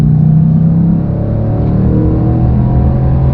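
2021 Range Rover Sport SVR Carbon Edition accelerating hard, a loud, steady, deep engine roar heard close from inside with a continuous rumbling drone and no talking over it.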